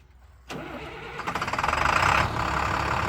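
A 2007 International dump truck's 7.6-liter DT diesel engine cranks: quiet at first, then a rhythmic starter churn builds and the engine catches into a loud, steady idle, with no one talking.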